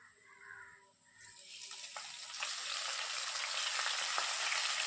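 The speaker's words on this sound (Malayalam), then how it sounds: "അതുപോലെ കുറച്ച് കറിവേപ്പിലയും 1/4 ടീസ്പൂൺ ഉപ്പും കൂടി ചേർത്ത് വഴറ്റി തുടങ്ങാം." Ground onion paste with ginger and garlic sautés in a pan with curry leaves and salt added. A quiet sizzle swells after the first second into a steady, louder frying hiss with a few faint scrapes.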